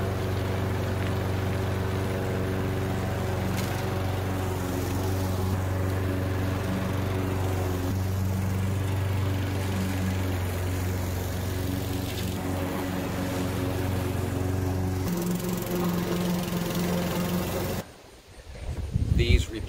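A Craftsman lawn mower fitted with replacement front drive wheels runs with a steady, loud engine drone held at an even pitch for most of the stretch, then cuts off near the end, leaving a brief rustle.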